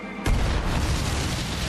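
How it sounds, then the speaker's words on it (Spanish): Massive naval mine explosion as a ship strikes a mine while crossing the Corinth Canal: a sudden deep boom hits after a brief quiet moment, then a loud, sustained roaring rumble continues to the end. "Se produjo una explosión enorme"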